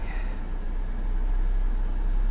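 An old Mercedes engine idling after a spark plug change, a steady low rumble that holds even and fairly loud for a couple of seconds with no talk over it.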